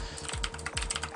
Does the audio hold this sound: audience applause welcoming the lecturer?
no